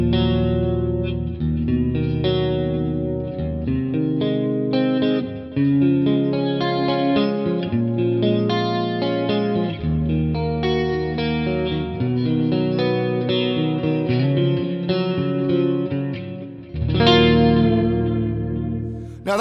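An electric guitar plays through a Quad Cortex amp-modeller preset with chorus added. Sustained chords and melodic lines ring out loud and continuous, with a shimmering modulated tone and no talking.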